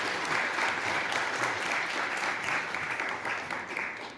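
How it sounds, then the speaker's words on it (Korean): A church congregation claps to welcome a young man back from military service, a full, even burst of applause from a large room that continues steadily throughout, heard somewhat distantly. "우리 큰 박수 하시죠."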